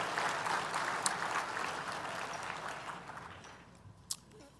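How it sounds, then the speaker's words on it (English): Applause from an audience at a morning benefit breakfast, a steady wash of clapping that fills the room and gradually thins out, with a couple of sharper individual claps near the end. "Biggest applause of the morning for our long overdue update to permitting for clean energy projects."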